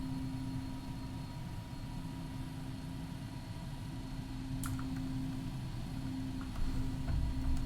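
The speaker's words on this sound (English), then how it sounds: "Is it really low, or can you hear the engines pretty well?" Engines of a Citation business jet drone steadily in flight, heard from inside the cabin as a low, even hum with a steady tonal whine, faint throughout, without talk.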